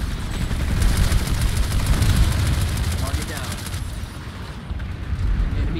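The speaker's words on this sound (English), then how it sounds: "That's the infantry with a lot of bullets coming over." Infantry gunfire in a sci-fi video game fortress assault, sustained bursts of rapid shots and booming impacts layered into a loud, continuous barrage with a voice talking underneath.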